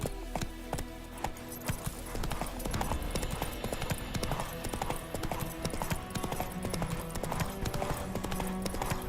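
Steady clip-clop of a horse's hooves trotting on a road in The Witcher 3, a quick even rhythm close up and moderately loud, over a low continuous background ambience.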